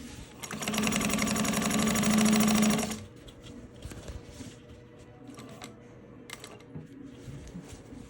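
A Juki 1541s sewing machine stitches through quilting cotton backed with fused fleece, giving a loud, steady mechanical whir for about two seconds before stopping, followed by quieter handling noises.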